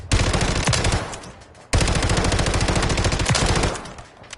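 A gold-plated Spas shotgun fires rapidly in the game MW3, in two loud, sustained bursts of closely spaced blasts separated by a brief pause, with no talking.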